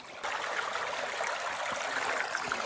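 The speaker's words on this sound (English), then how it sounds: "It's pouring water out of the mountain." Water pours out of a flooded mountain mine as a loud, continuous rushing flow, steady and close throughout.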